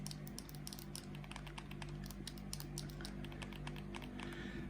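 Rapid light clicks from the non-analog trigger buttons of a Retroid Pocket V2 handheld being pressed repeatedly, quiet and close over a low background hum, no voices.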